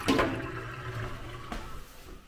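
Water runs from a leaking bathtub faucet with a steady, close rushing hiss that surges at the start and again briefly midway.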